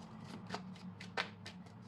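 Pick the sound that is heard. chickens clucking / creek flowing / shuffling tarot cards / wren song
shuffling tarot cards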